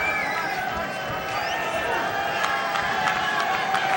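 A crowd at a 1984 New York state high school wrestling championship final cheers and claps through the arena, a steady roar with scattered sharp claps, while a commentator talks over it.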